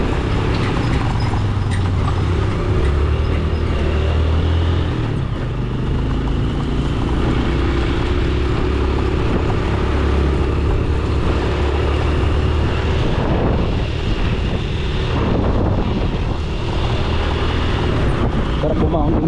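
Honda TMX motorcycle engine droning steadily while riding toward Carmona, Cavite, loud and continuous with wind buffeting, and a rider talking over it.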